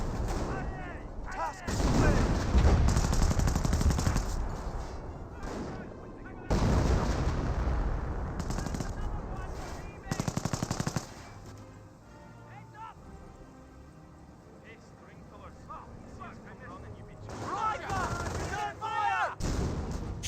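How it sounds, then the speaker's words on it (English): StuG assault gun firing in a Company of Heroes battle, heavy booming shots and bursts of gunfire rising and falling over about twenty seconds, with a commentator talking throughout. "Stu now firing away, gets a good hit there."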